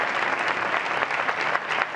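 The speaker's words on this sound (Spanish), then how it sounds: "Con unos aplausos del público que también ha ovacionado a los protagonistas" Audience applause at an Aragonese music awards ceremony in Alcañiz, a brief, loud, dense burst of clapping from a crowd, sustained evenly throughout.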